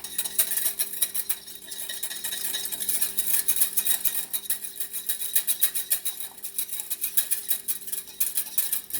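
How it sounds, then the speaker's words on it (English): A metal whisk beats egg yolk with a spoonful of water in a bowl, producing a fast, steady run of close clinking taps against the sides, rhythmic and continuous without talk. "I'm going to take my whisk, and I'm going to beat that around."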